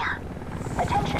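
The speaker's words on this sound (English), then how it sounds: "Over there, Korean recon chopper." A Korean recon helicopter flying by in the video game Homefront, a low rotor thrum and wind-like rumble under speech.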